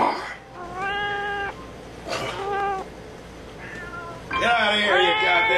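A cat meows several times in drawn-out, wavering cries, close and fairly loud, with a longer yowling call at the end; a steady low background hum runs beneath.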